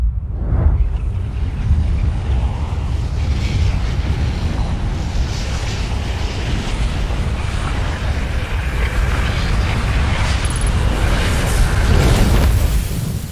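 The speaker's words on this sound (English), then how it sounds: "the sun is going to explode and everything and everyone in the solar system is going to die" A sun exploding in the space exploration game Outer Wilds, heard as a loud, sustained roaring rumble with deep booming low end and wind-like hiss, holding steady throughout without speech.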